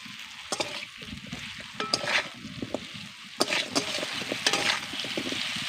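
Raw tamarind being stirred into a fish curry in a pan, with a utensil scraping in irregular strokes over a steady soft sizzle, close and moderately loud, no talking.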